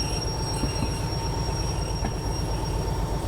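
A train braking to a stop in the video game Derail Valley, with a heavy low rumble of rolling wagons under steady high brake squeal tones, sustained and fairly loud with no talking.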